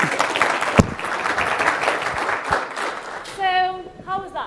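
An audience at a technical conference talk applauds loudly for several seconds, a dense wash of clapping that fades as a voice begins speaking at the end.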